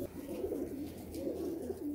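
Pigeons coo softly inside a coop of golden pigeons, low throaty rolling calls repeating in a continuous murmur, faint and close with no talk.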